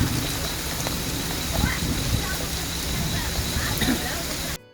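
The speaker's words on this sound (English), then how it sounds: "but then so did the rain" Steady rain pours down on a building site, a dense, even hiss of drops that holds for several seconds before cutting off abruptly near the end.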